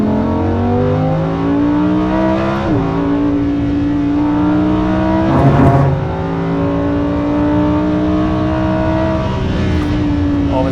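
A Lamborghini Performante accelerates hard on the Nürburgring, its engine climbing through the gears with quick upshifts. The loud, close onboard engine note stays steady throughout.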